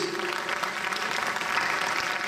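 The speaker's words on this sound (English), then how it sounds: "Please give them a big round of applause" Steady, dense applause from a crowd at a Diwali event, continuous clapping that fills the whole moment without a break.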